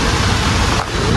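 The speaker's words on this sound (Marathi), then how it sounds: "गाईज बघा ना किती पाऊस आला यार." Heavy rain pours down in a steady, dense hiss that fills the whole moment without a break, loud and close.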